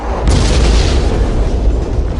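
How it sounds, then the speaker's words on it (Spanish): A volcanic eruption lets out a loud, deep explosive boom that swells quickly and then rolls on as a sustained rumbling roar. "Las erupciones volcánicas son una de las fuerzas más impactantes de la Tierra."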